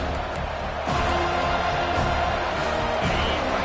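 Home crowd roaring in College Football 25 during a Florida State versus Florida game on a third-down defensive stand, a dense steady wall of cheering that swells after the first second and holds loud throughout.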